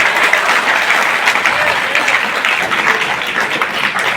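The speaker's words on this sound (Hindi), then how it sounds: "जोरदार तालियों से स्वागत किया जाए।" A crowd at a ceremony honouring district teachers gives loud, sustained applause, dense and steady clapping with no break, with a voice faintly under it.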